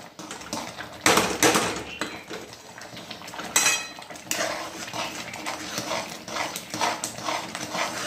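A spoon stirs and scrapes moong dal upma in a pan over a lowered gas flame, giving irregular clinking and scraping knocks at close range with a few louder clatters.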